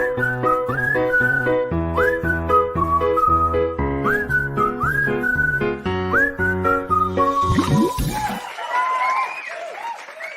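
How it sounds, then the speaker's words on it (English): A whistled jingle for a morning show's money segment plays as a lively, tuneful melody over a backing beat, ending in a brief burst of whistles and crowd noise. "And the resurrection of the whistling for you there as well."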